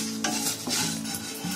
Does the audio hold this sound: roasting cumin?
yes